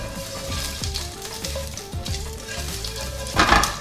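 Food sizzles and fries in a hot pan with a little water, a continuous crackling hiss with soft stirring scrapes and a louder burst near the end, close and without voices.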